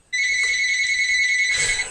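A phone ringtone sounds loud and close with steady electronic tones, a brief bright burst at the end, in a room where a gun is being cleaned.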